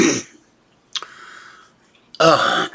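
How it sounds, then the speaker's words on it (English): A brief, harsh throat clearing between stretches of quiet, with louder rustling bursts at the start and end. "I've been clearing my throat a little"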